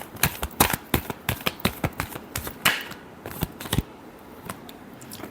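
Tarot cards being shuffled by hand, a quick run of crisp, close riffling snaps in an uneven rhythm that stops, leaving the last second quiet.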